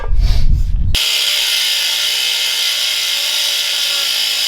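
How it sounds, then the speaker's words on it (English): An angle grinder cuts through a car's control arm, starting with a brief burst of scraping contact before settling into a loud, steady high-pitched whine that runs on without letup. "So I'm gonna go ahead and get my angle grinder and then chop this off and see how that goes."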